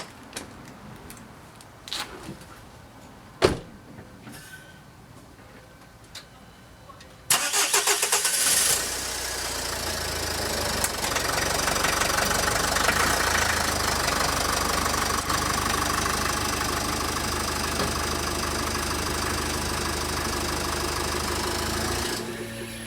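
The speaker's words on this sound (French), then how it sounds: "Donc on va démarrer la voiture" A car engine cranks and fires, then settles into a steady, fairly loud idle that runs on without change, after a few quiet knocks and clicks before the start.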